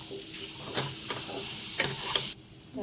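Ghee sizzling in a pan, a soft steady frying hiss with several light scraping or tapping knocks, close by, cutting off abruptly near the end.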